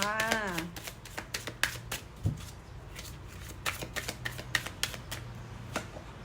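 Oracle cards being shuffled by hand: a quick, crisp series of riffling snaps and taps, close and fairly loud, with a brief vocal sound at the start.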